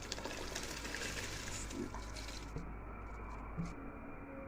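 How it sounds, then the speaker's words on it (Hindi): Soft, continuous watery bubbling and gentle pouring from a pot of boiling water as rice is added, with a few quiet clinks. "अब मैंने चावल डाल दिए।"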